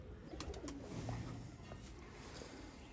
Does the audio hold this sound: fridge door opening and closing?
no